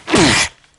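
A single sharp sneeze, close and loud, with a short burst that cuts off quickly into quiet.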